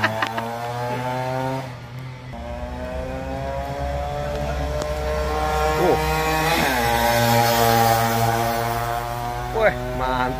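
A Yamaha F1ZR motorcycle fitted with a KENSAE Pro aftermarket exhaust revs nearby, a loud, raspy droning engine note that holds, dips and climbs again through repeated throttle blips.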